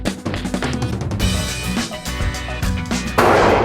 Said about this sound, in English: Gun range, I'm about to fire the M1 carbine